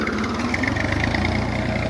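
A tractor-driven jugaad tillage implement runs in a field to loosen the soil, its engine drone steady and loud throughout with no speech.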